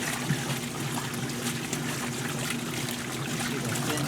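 Water pours into the tub of a Maytag washing machine as it fills, a soft, continuous rushing trickle at an even level throughout.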